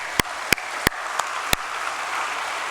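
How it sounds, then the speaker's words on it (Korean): A church congregation applauds its hard-working teachers: a handful of sharp, distinct claps stand out over a soft, steady wash of clapping across the room. "우리 수고하시는 교사들을 위해서 다시 한번 큰 박수로 한 번 더 격려하겠습니다"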